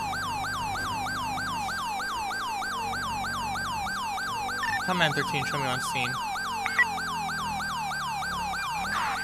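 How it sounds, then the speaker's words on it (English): A rapid wailing police siren in the video game GTA 5 with the LSPDFR mod repeats continuously and loudly, with a brief radio voice speaking over it partway through. "I love the siren, too."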